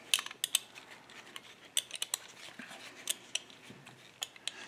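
A water inlet solenoid valve being taken apart with tools produces quiet, scattered metallic clicks and snips in irregular bursts, close and alone.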